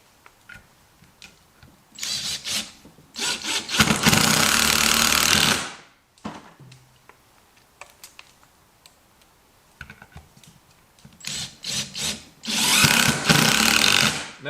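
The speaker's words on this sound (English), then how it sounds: "I'm just going to drive these screws right down into that." Power drill driving screws into a wood blank before lathe turning, in two long loud bursts of whirring with shorter spurts and clicks between them, close and without talk.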